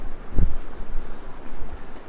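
Wind rumbles and buffets against the microphone in uneven low gusts, with a stronger thump early on and no voices.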